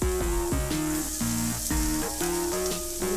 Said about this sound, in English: I'm just gonna place the shrimp in the pot.